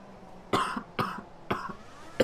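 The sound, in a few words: coughing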